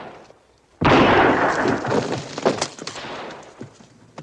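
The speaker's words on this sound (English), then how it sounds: "I don't think you'll ever hit him with that cannon" A gun fires with a sudden loud blast in a 1950s Western fort battle, and the roar then rumbles and decays over a few seconds, broken by crackling debris and smaller pops.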